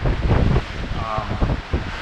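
Wind rushing over a sailboat at sea, steady and loud with buffeting gusts against the microphone and hints of water, while a sail is reefed and the boat keeps running at speed.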